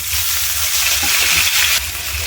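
Chopped tomato tipped into hot oil with lightly fried ginger, setting off a loud, steady sizzle and crackle of frying that continues throughout.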